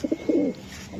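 A racing pigeon gives a short close coo, a couple of quick soft pulses followed by a longer rolling note, heard alone and clearly.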